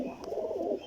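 Pigeons give a short, soft low coo nearby, a brief throaty call with no talking over it.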